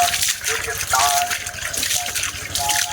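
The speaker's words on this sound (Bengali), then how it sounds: "কতগুলো চিংড়ি মাছ ঢালবো?" Water splashes and gushes as a net's catch of shrimp is tipped out beside a Sundarbans creek, a short wet pouring burst close by while people talk over it.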